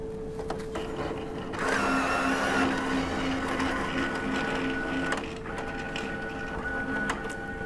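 A card printer feeds an adhesive cleaning card in and carries it along its full length up into a vertical module, giving a steady mechanical whir and motor hum with a louder stretch of transport, then quieter clicks.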